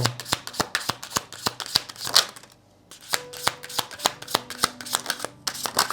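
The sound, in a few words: shuffling tarot cards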